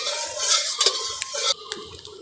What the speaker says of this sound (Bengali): তেলটা একটু নেড়ে দেব।